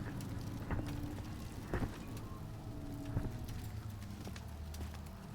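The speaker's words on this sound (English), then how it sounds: "I hear something stomping around." Heavy stomping thuds outside in the horror game Amnesia: The Dark Descent, three or four muffled footfalls spaced about a second apart over a low ambient hum, heard at a distance.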